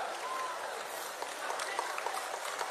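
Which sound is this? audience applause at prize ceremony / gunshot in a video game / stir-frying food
audience applause at prize ceremony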